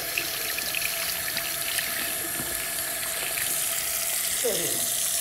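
Room-temperature tap water runs steadily into a sink while makeup sponges are washed with soap, a loud continuous close hiss with light splashing throughout.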